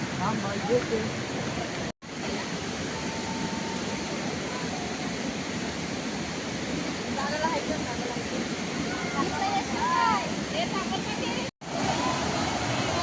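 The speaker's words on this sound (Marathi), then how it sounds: "भाई पाण्याचा आवाज बघा किती येत आहे" Loud, steady roar of rushing water from a waterfall in Rajapur, Konkan, continuous and close, with faint voices barely audible beneath it.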